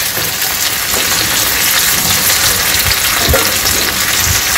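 Tomatoes softening in a pan for a South Indian chutney, a loud, dense, continuous sizzle and bubble close up, with occasional soft stirring thuds.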